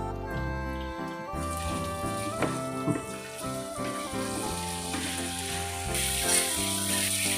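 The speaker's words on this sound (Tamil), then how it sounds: "ஒரு கைப்பிடி கருவேப்பிலை போட்டுக்கலாம்" A handful of curry leaves sizzles in hot oil, giving a steady hissing crackle under a prominent melodic music track.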